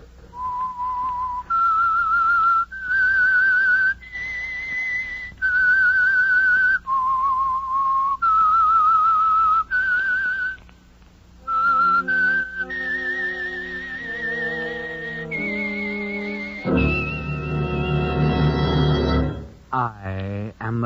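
A lone whistled tune of long, clear notes rising and falling, the theme signal of the 1940s radio drama The Whistler, joined near the end by swelling orchestral music.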